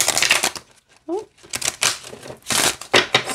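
Bursts of crisp, rapid riffling and flapping of an oracle card deck come in several short runs, with a brief voice sound in between.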